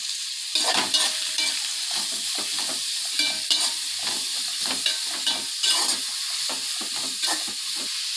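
Onions fry with salt in a hot pan, giving a continuous sizzle broken by repeated scraping stir strokes at an uneven rhythm, close and moderately loud with no talking.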